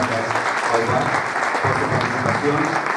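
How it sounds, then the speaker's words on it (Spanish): Steady, full audience applause at a public-private partnership conference, dense continuous clapping from a sizable crowd with a voice faintly underneath. "con un fuerte aplauso agradecemos mucho"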